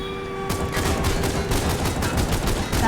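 Gunfire from a GTA game set in Los Santos, played on Android: dense, loud bursts of rapid shots with a brief quieter lead-in, then a steady fusillade of overlapping reports filling the rest.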